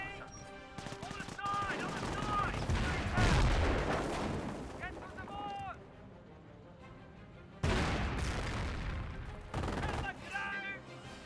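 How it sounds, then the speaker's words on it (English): In a Company of Heroes 1 replay, a landmine goes off under German Stormtroopers amid dense game gunfire, with heavy bursts and booms layered over rapid shot volleys and a commentator's voice. "Stormtroopers do find a landmine"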